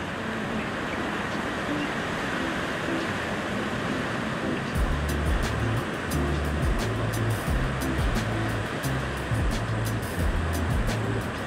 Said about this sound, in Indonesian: Di sini juga surganya para peselancar. Karena memiliki ombak yang cukup besar di bagian pantai agak ke tengah.